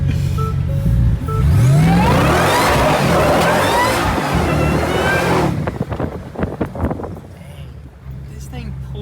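A Ford Raptor R pickup truck launches hard and accelerates away, a loud rising engine roar with wind buffeting that fades into the distance, followed by excited voices nearby.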